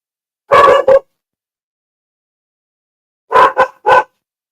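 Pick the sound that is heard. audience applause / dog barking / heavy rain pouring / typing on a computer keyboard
dog barking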